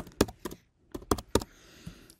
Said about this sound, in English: You can click anywhere within your main video window, the program monitor, and start typing.